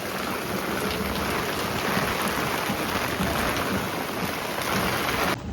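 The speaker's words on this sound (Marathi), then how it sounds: "मस्त पाऊस आलेला आहे" Steady, heavy rain pours down across the whole stretch, a dense continuous hiss of drops hitting surfaces close by, with no voices.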